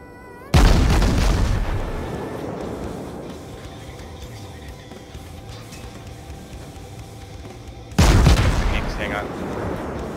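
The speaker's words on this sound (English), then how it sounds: "Firing HE" Warship main guns firing high-explosive shells in the naval combat game World of Warships: two loud booming salvos about seven seconds apart, each decaying into a long rumbling tail.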